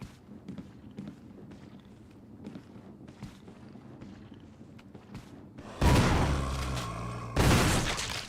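Footsteps tread along in Resident Evil Remake, then two loud, booming gunshots ring out close by, each trailing a long, noisy echo.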